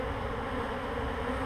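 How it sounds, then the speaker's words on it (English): Bees from a swarm buzz inside a bucket, a dense, continuous hum of many insects heard close up without any talking. "There's quite a few bees in there"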